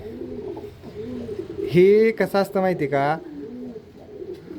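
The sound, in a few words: pigeons cooing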